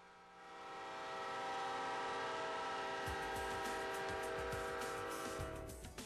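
A train on the Union Pacific West Line rolls past with a loud, sustained horn blast and steady rumble of wheels, swelling and then easing off over several seconds.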